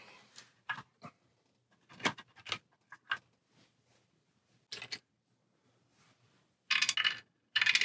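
Short bursts of game cards being shuffled and riffled during a Marvel Champions card game, separated by brief pauses, with a longer loud riffle near the end.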